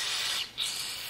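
A steady hiss of aerosol cleaner sprayed into an antique saw's carburetor, close up, with a brief dip midway before the spraying resumes.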